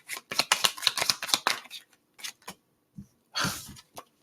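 Tarot cards being shuffled by hand: a quick run of crisp riffling flutters over the first second and a half, then a few separate soft slaps and a final burst of shuffling, close and fairly quiet.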